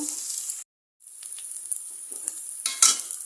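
Spices frying in a pan with cooking beef tripe, heard as a bright steady sizzle with stirring scrapes. The sizzle cuts out briefly, then returns and swells near the end.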